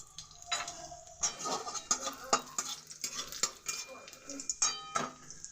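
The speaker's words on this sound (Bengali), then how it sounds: "এবার এই তেলের মধ্যে দিয়ে দিলাম 2টো শুকনো লঙ্কা ছিঁড়ে" Dried red chillies are torn into hot oil and fry in a pan, with a light sizzle under repeated close clinks and scrapes of a utensil against cookware.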